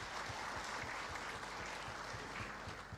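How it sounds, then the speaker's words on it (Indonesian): Applause from the audience at a faculty of social humanities graduation ceremony, dense and continuous but fairly quiet, with no talking over it. "Tepuk tangan dulu untuk kita semua."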